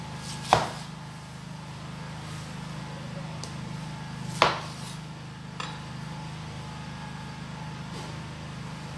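A knife cuts through an unripe pineapple with a few sharp, separate chops or thuds spaced seconds apart over a low, steady background hum.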